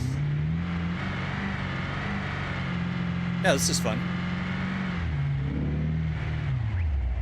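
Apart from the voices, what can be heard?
car engine revving in BeamNG.drive video game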